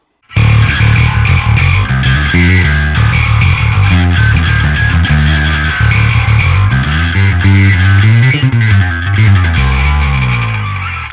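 A thick, heavily effected electric bass with pickups wired together like a big humbucker plays a busy melodic line, distorted and chorused, loud and steady with no voices.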